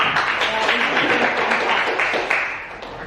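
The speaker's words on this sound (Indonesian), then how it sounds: "kita beri tepuk tangan untuk kelompok 1" A classroom of students claps for the first group after its presentation, a brisk uneven patter of hands that fades toward the end, with voices mixed in underneath.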